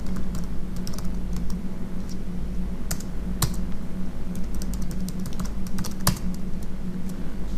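Rapid, uneven clacking of keys as a password is entered on a computer keyboard while configuring a Juniper switch, close and clear with short pauses between bursts.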